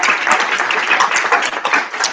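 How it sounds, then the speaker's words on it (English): Audience round of applause at a talk on breast cancer and spirituality, dense continuous clapping from many hands, loud and close, with no voices over it. "I would like to really give a round of applause to honor you people."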